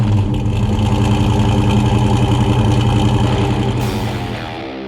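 A 1993 Ford Mustang Cobra engine idles loudly and close with a steady, even rumble that eases slightly toward the end. No one speaks.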